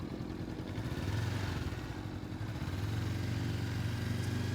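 A motorcycle rolls along at slow speed during an advanced slow-speed riding practice session, its engine a steady low throbbing drone close by with faint clatter, no talk over it.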